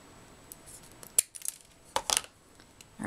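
A few crisp scissor snips cut the back off a rose-shaped button for a decorative placard. The cuts come as isolated sharp clicks and grouped bursts in a quiet room.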